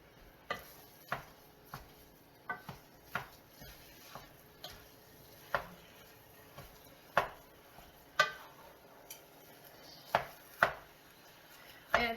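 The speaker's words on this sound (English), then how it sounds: "saute this meat in the pot" Meat browns in a pot for chili while a spoon knocks and scrapes against the pot at irregular intervals, sharp distinct taps over a quiet, low background sizzle.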